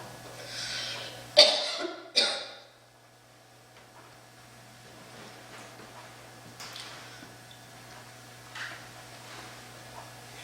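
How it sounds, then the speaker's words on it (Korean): A pastor coughs twice in close succession during a Sunday church sermon, loud and near, followed by quiet room tone with faint movement. "제가 그랬더니 막 기침이 나네요"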